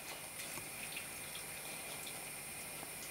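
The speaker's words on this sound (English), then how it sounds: "Let it drip." Water drains and drips off freshly cooked noodles, a soft, steady trickle with light splashes, close and quiet, heard alone without talk.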